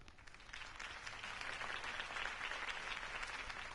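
Steady applause from a large crowd in the game Batman: The Telltale Series, continuous and fairly loud throughout, with no break.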